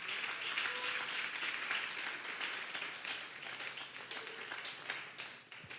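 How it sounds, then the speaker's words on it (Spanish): A large church congregation applauds steadily during a Sunday service, a dense wash of clapping that fades slightly toward the end, no speech. "Démosle un fuerte aplauso al Señor."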